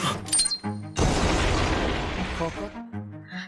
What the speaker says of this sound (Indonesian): Sepanjang pelarian, Karasuma mendapat jebakan ledakan